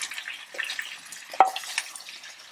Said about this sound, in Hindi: तकरीबन 10 से 12 मिनट हम इसको भिंडियों को यहाँ पर फ्राई करेंगे।